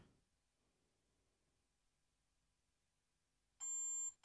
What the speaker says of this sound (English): Now we get a long beep from the motor